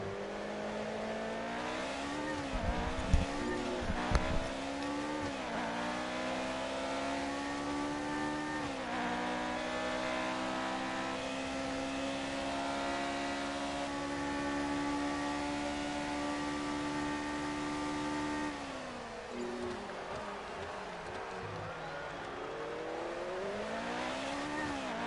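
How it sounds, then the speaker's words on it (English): A McLaren Formula 1 car engine in F1 2019, wailing steadily at high revs for the whole stretch, with rising and falling pitch through gear changes and a brief throttle dip, loud and close with no talk. "This is loud as Ferrari. No, it's a McLaren."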